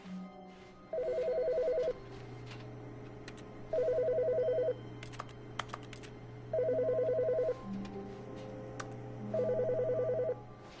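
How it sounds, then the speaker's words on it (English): A telephone rings in the video game The Stanley Parable. Four evenly spaced electronic ring bursts play over a low steady ambient hum, with no voices. "Phone was ringing back there."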